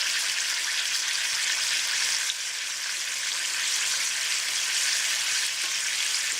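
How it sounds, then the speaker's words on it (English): Pork browning in a hot pan over high heat gives a steady, bright sizzle and fry, close and even throughout with no voices. "with this being on high, we're just going to brown the pork on all sides"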